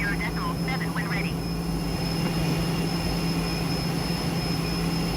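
Northrop T-38 Talon jet taxiing in the MSFS 2020 flight simulator, a steady engine whine and hum with a faint tonal whistle, heard under radio-style speech.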